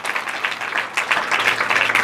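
Loud applause from a church congregation during Sunday worship, many hands clapping in a dense, sustained patter that swells slightly partway through, heard up close without speech.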